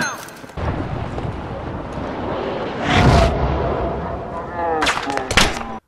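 Rocket blasts and gunfire from a Battlefield 3 match rumble loudly and steadily, with a big explosive surge near the middle and sharp bursts toward the end, while voices talk over the din.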